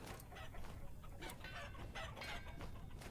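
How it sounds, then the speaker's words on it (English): Chickens clucking in a farming video game, a scatter of short squawks and clucks over a soft ambient bed, fairly quiet and with no voices. "I did come through and kill the chickens"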